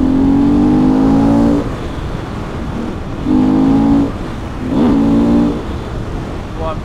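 Motorcycle engine pulling hard in fifth gear on the road, rising in three loud revving surges separated by quieter stretches, with steady wind rush throughout.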